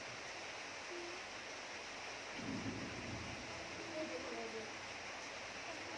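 Steady morning rain hisses evenly on a cool, wet day, and a low rumble of thunder rolls through about halfway before the downpour carries on alone.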